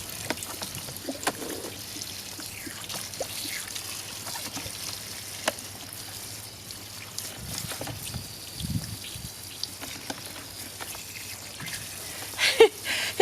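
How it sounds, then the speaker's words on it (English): Water from a tap trickles and pours steadily into a tub being filled to wash freshly harvested vegetables, a low continuous splashing with a few louder gushes near the end. "Fill it up with water."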